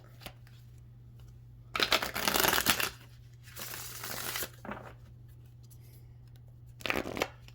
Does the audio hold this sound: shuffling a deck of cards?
yes